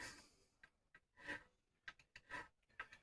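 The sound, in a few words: rounding bass guitar frets by hand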